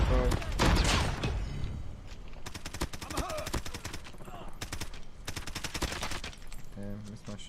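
Video game gunfire crackles in rapid bursts and long automatic volleys, close and loud, with repeated clusters of shots running throughout and a voice speaking over the action.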